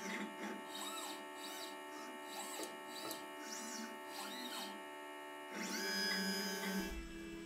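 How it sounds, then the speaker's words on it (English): LitePlacer pick and place machine homing toward its mechanical end stops, a close, steady tonal whine of stepper motors that rises and falls with each move and grows louder near the end, with no talk. "So while homing, the machine is moving until it reaches the mechanical end stops."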